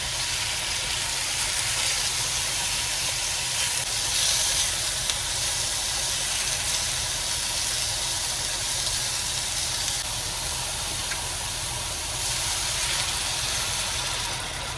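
Meat browning hard in a pan on the stove, a steady loud sizzle and hiss blended with the constant roar of a cooker hood fan, running without pause or talk throughout.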